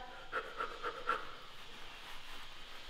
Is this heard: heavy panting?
yes